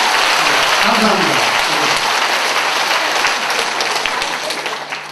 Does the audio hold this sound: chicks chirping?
no